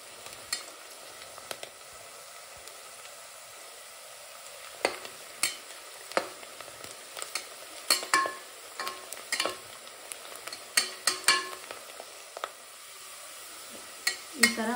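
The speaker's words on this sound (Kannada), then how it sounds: "ನಾನು ಈಗ ಉಳ್ಳಾಗಡ್ಡಿ ಅಷ್ಟನ್ನು ಫ್ರೈ ಮಾಡ್ಕೊತೇನೆ ರೀ" Onions frying in hot oil toward golden brown, a soft steady sizzle with repeated sharp spatula scrapes and taps against the pan, close by with no voices.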